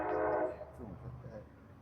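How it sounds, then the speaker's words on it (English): A horn from a passing train blares briefly near a conference venue, a loud tonal blast at the start that quickly fades into low rumbling background noise. "Got a train going past."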